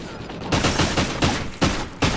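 Bursts of gunfire in a Search and Destroy video game match, several sharp shots and short volleys at irregular intervals, loud and close, with no talk over them.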